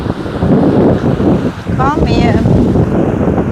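Strong wind gusts roar steadily into the microphone beside a swollen river, loud and continuous, with a brief whistling tone midway.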